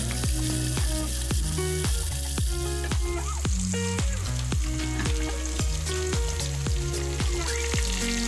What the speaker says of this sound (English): So I'm going to use just a little bit to fry my chicken